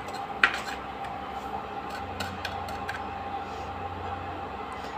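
Salt being dry-roasted in a pan over low heat while homemade black salt is made, a faint, steady scraping and stirring with light clinks of a utensil against the metal, under a low background hum.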